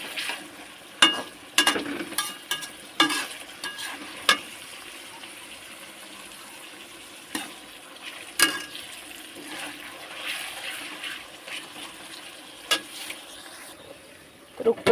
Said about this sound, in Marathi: तेल टाकते आणि कांदा भाजून घेते